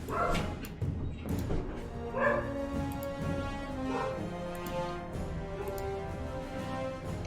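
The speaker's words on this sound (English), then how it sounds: "the neighbors are mowing their lawn right now, which is great timing. So dogs are going crazy" Dogs bark excitedly at a neighbor's lawn mowing, repeated loud barks and yips close by in a quiet room, some overlapping in irregular bursts.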